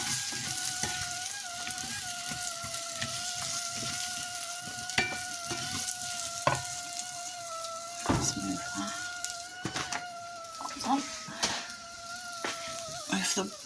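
Courgette, mushrooms and onion sizzle steadily in a frying pan, a constant crackling hiss broken by scraping stirs and clinks of a utensil, with a faint kettle-like tone running underneath.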